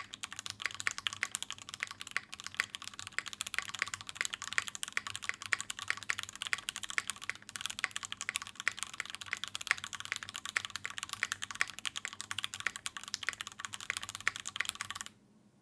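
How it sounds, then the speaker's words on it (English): Typing on a Keychron Q6 full-layout aluminum mechanical keyboard, with rapid, steady clacking keystrokes close to the microphone that continue for about fifteen seconds and then stop. "This is the Keychron Q6, a fully aluminum keyboard with a full layout."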